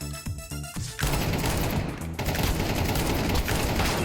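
Rapid automatic gunfire in the Counter-Strike 2 video game, a dense, loud burst of shots that starts after a few separate cracks and keeps firing almost without a break.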